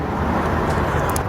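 A parrot imitates a car engine starting, a steady broadband rumbling churn held for just over a second, fairly loud and close with no talk.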